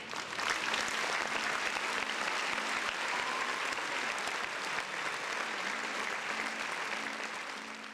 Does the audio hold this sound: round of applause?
yes